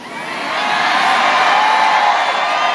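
Large crowd at a Jacksonville, Florida political rally, loud sustained cheering and shouting that swells within the first half second and stays at a steady roar.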